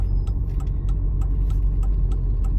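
Car passing by on a road, a low rumbling engine and tyre noise holding steady, with sharp clicks and taps scattered over it, fairly close and without speech.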